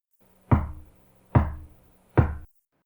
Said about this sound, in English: from somewhere deep inside the broken phone came 3 slow knocks